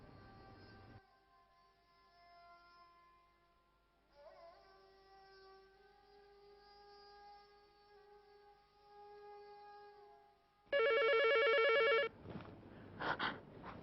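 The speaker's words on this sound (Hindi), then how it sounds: "आमिर का फोन होगा, मैं नहीं उठाऊंगी, आप बात करें।" A telephone rings with a warbling electronic tone, quiet and steady for a long stretch, then a much louder ring near the end.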